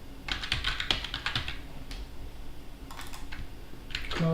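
Typing on a computer keyboard while entering an IP address on a Fedora machine, quiet close-up key clicks in two short bursts separated by a brief pause.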